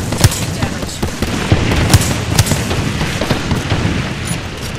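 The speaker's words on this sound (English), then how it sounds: "Grenades." Grenades go off in the video game Apex Legends: a rapid series of sharp booms and cracking blasts, several close together, over a dense background of game noise.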